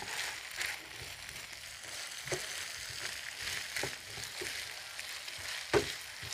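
Chopped small shallots fry in a hot pan with a steady, close crackling sizzle, broken by a few sharp stirring scrapes and clinks.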